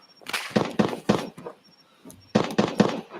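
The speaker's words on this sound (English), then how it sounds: "For the firefight at Sawmill. You guys can probably hear that." Distant gunfire from a firefight at the Sawmill in a video game, heard as two clusters of sharp, rapid cracking bursts separated by a quieter pause, somewhat far off.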